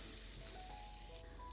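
Spices fry in hot oil for a tadka for halwai-style aloo gobhi, a steady faint sizzle with soft crackles that runs unbroken throughout.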